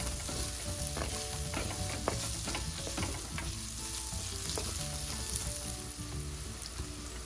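A salted spice mixture stir-fried in oil until lightly browned, ahead of adding cuttlefish, a steady close sizzle with repeated scraping and tapping of a spoon against the pan, no voices.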